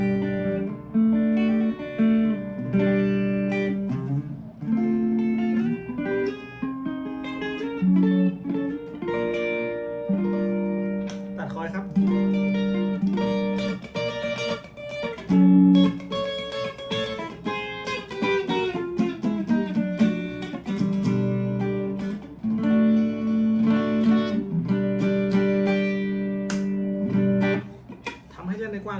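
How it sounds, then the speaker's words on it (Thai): A clean electric guitar, a Korean-made PRS-style Future on its neck pickup, with a warm, smooth tone plays sustained chords and melodic lines, steady and close, with no voices. "เดี๋ยวมาลองตัวเน็กนะครับ ตัวเน็กนี่ก็หวานๆเลย"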